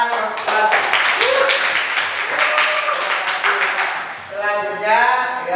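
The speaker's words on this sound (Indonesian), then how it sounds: "tepuk tangan Mas" Applause from an audience at a school Muslim student association gathering in Magelang, a burst of dense clapping that fades before voices take over near the end.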